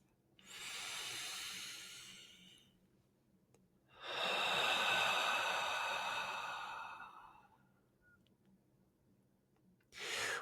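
A group inhales and exhales deeply together during a prayer, two long, soft, airy breaths with a pause between, then the start of a third, close and steady with no talking.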